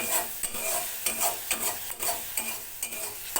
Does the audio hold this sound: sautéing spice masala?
yes